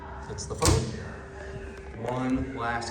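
A Montgomery KONE hydraulic elevator at the Wild Arctic exhibit at SeaWorld closes its door with a single solid thud, followed by quieter mechanical rumbling, while people speak in the background.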